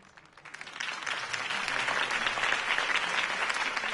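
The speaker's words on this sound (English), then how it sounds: "If only Mr. Wayne, my campaign's largest backer, could have heard that applause" Crowd applause after a campaign speech in the video game Batman: The Telltale Series, dense clapping that swells from a quieter start and keeps going steadily, heard alone without speech.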